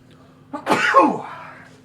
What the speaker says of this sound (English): I'm going to have to sneeze real quick.